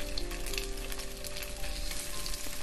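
Tofu jeon, a Korean tofu pancake, fries in a pan with a steady, dense sizzle that crackles evenly throughout, close and continuous with no voices.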